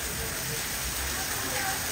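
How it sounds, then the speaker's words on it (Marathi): Heavy rain with hail pouring down in Baramati, a dense, steady roar of falling water that fills the scene evenly and loudly throughout, with a voice faintly present beneath it. "सपा सपा सपा सपा गारा पडल्या"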